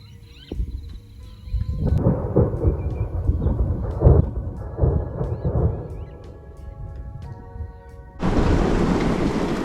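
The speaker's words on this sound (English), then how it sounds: "Will we get a big storm or will it just go around us? Here comes the rain." Low rumbling thunder rolls through steady rain at a country campsite in Bolivia, Northern New South Wales, then the downpour swells into a loud, dense hiss near the end.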